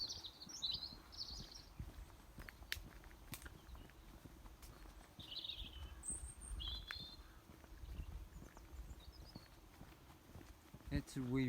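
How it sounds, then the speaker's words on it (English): A small robin calls beside a rural road in Donegal, Ireland, with a few short, thin, high chirps scattered over several seconds. They sound fairly distant and faint above steady footsteps on the walk. "That's a wee robin calling out."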